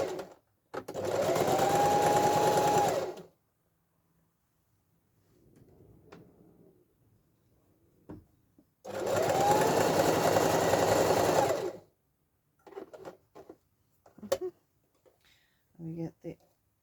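Letterbox pocket fabric is stitched on a sewing machine in two steady runs of about two and a half seconds each, separated by quiet handling noises and faint talk, with a few clicks near the end.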